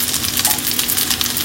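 Rice frying in a pan while it is stirred, a steady close sizzle with soft scraping throughout, no voices.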